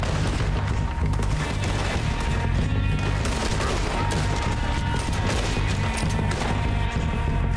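Gunfire in the video game Red Dead Redemption 2 comes as a dense, continuous fusillade of loud overlapping shots and booms that hammers on without pause.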